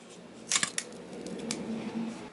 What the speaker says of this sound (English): Take a pair of scissors and cut it off.